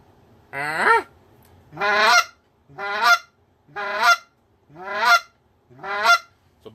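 A goose call blown to imitate goose honks, six sharp rhythmic honks about a second apart, loud and close, each a buzzy note that breaks upward into a cluck, with brief silence between.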